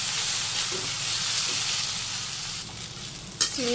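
Water lily stems sizzle in a pan with turmeric and chili powder, a steady, fairly loud frying hiss with a few light clinks and stirring knocks toward the end and no speech.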